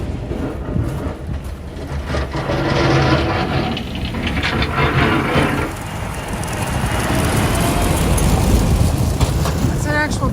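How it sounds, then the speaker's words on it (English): A garbage truck drives past on a snowy street in Queens, New York, during a blizzard, its engine rumble and road noise swelling and staying loud and close, with voices mixed in. "That's an actual garbage truck."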